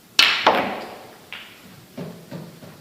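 In a snooker match, a cue strikes the cue ball hard in a power shot with a sharp crack, then a second knock follows, and fainter clacks and thuds come as the balls hit cushions around the table.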